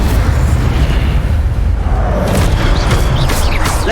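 Incendio fire spell cast in Hogwarts Legacy: a loud, continuous booming burst of flame with crackling, explosive texture and rumbling low end throughout, with no talk.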